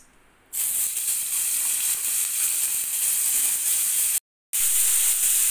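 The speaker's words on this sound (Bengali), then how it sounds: "তেল ভালো করে গরম হয়ে যাওয়ার পরে কাঁকড়াগুলো ফ্রাইং প্যানের মধ্যে দিয়ে দিতে হবে ভেজে নেওয়ার জন্য" Crabs fry in hot oil in a frying pan, giving a loud, steady sizzling hiss close up that drops out briefly once before resuming.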